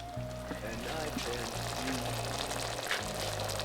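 Pork salpicao with garlic stirred and fried in a pan, giving a steady close hiss of sizzling with occasional stirring scrapes, under background music.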